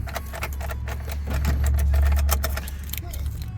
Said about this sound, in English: I can crank it over right now.